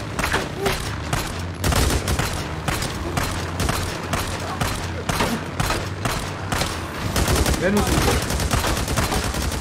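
Rapid machine gun fire from a zombie apocalypse video game, loud continuous bursts with dense repeated shots and booms across the whole stretch, with a voice speaking briefly over the gunfire.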